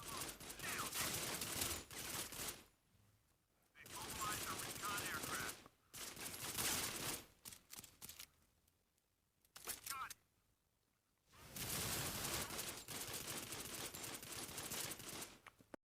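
Gunfire from the mobile shooter Modern Combat 5 comes in several long, dense bursts of rapid automatic fire separated by near-silent gaps, loud and close, with a voice talking over parts of it.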